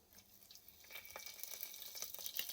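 Garlic sizzles in a hot pan with scattered, irregular crackles and pops that grow slightly busier toward the end; the sound is fairly soft and close, and no one speaks.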